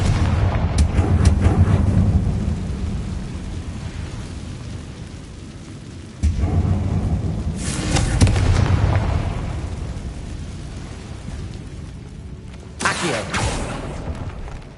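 Confringo and Bombarda spell explosions in a fantasy video game, a series of heavy booming blasts with rumbling debris tails, recurring about every few seconds.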